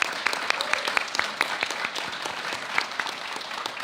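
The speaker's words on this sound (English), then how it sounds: "Let's give Senator Heinrich a round of applause." Audience applause for a senator at a press conference on the Puerto Rico Status Act, a small group clapping with distinct individual claps standing out, moderately quiet and steady.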